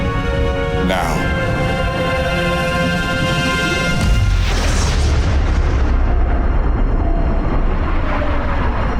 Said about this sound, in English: Antimatter explosion, sir. Artemis is gone.